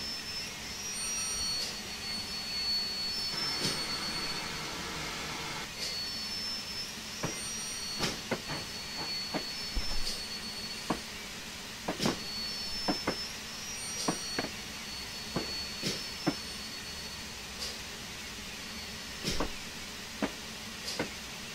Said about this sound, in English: I'm just going to put a bit of brake on